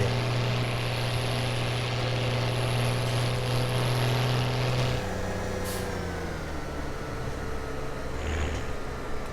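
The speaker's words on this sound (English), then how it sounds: "It's very loud, this tractor, and it's so cool." A tractor engine in Farming Simulator 17 drones loudly and steadily, a deep humming tone that drops in pitch about halfway through and keeps running underneath, with no one talking.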